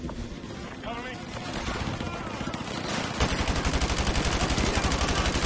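Rapid automatic gunfire from Modern Warfare 2 Remastered, a sustained stream of loud, dense bursts that grows heavier and more continuous partway through, layered over game ambience and other battle noise.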